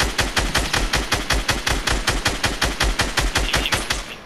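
Rapid automatic gunfire in a squad-based shooter video game, a steady stream of sharp, loud, evenly spaced shots running continuously without pause, close and dominant with no talk over it.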